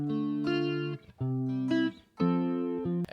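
Clean electric guitar through a basic jazz amp preset with reverb, three sustained chords or phrases with short gaps between them, bright and upfront with no voices.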